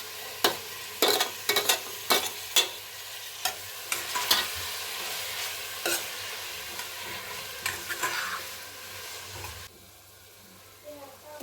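Tomatoes tipped into a pan for lentil sambar bring a series of close, sharp clatters and plops over a hissing sizzle. The frying stops abruptly near the end, leaving only faint room noise.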